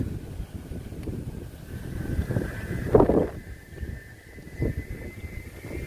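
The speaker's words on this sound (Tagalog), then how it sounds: "Grabe, ang lakas ng hangin sa taas" Strong, gusty typhoon wind during Typhoon Carina rushes and buffets against the microphone high up, a continuous roar that swells briefly before easing.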